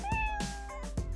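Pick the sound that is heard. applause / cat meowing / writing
cat meowing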